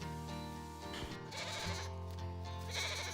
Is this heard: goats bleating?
yes